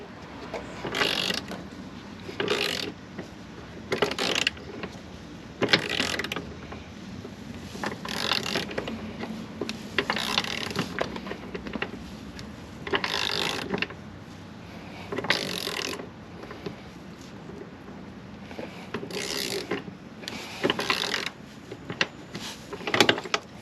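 A ratchet fitted with a Torx T50 bit works a bolt loose on a wet 2024 Chevrolet Silverado 2500 HD, with bursts of ratcheting clicks and pauses between strokes, close and fairly quiet.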